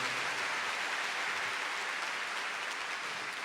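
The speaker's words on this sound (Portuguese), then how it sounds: "Vamos aplaudir a palavra de Deus." A church congregation claps together, a dense, even wash of applause that stays steady and moderately loud for a few seconds with no voices over it.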